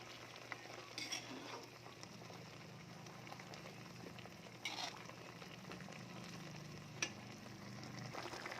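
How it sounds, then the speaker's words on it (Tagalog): A pot of ginataang papaya with malunggay, coconut milk at a boil, bubbles and simmers steadily while a spoon stirs with soft scrapes and occasional light clinks. "Kumukulo na siya, haluin na natin yan para mahalo yung ating malunggay."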